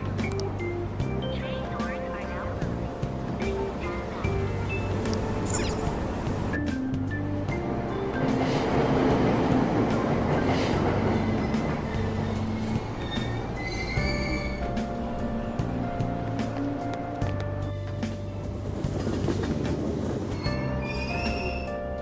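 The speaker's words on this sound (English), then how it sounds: "Train doors are now closing. Please stand back." Train departing a station in the video game Persona 5 Royal: steady rumble of a subway train pulling away with rising mechanical hum and brief high squeals, under a recorded platform announcement voice.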